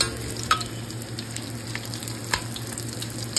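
Food fries in a pan in a home kitchen, giving a steady close sizzle with scattered crackles and pops and no talking.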